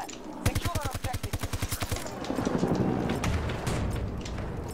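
Rapid automatic gunfire from a gun in the Battlefield 2042 video game, a steady burst of about fifteen close, loud shots, then rumbling battle noise and a distant game announcer voice.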